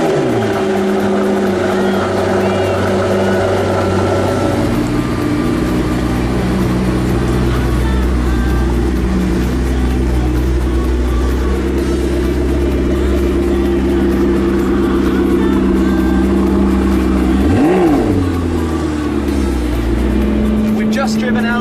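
A McLaren 650S Spider's engine runs in a loud, steady, close drone throughout, with one sharp rev that climbs and falls near the end; voices may be faintly present.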